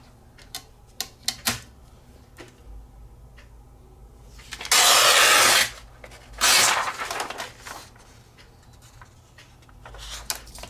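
Paper edges torn by hand to give a shabby chic journal an aged look: several sharp rips, including two longer loud tears, set among scattered crinkles and taps in a quiet room.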